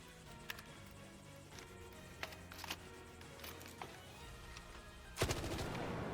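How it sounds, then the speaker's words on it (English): A level 1 Torrente gun reloads in the video game Arc Raiders: a sparse series of sharp mechanical clicks and clacks spaced over several seconds, then a louder metallic burst near the end, over quiet game ambience. "This is the reload time of a level 1 Torrente."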